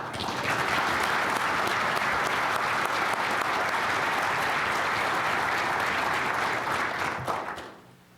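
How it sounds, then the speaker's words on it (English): A large audience gives sustained, full applause, thick and even at close range for about seven seconds before tapering off at the end. "I ask you to join me in a round of applause"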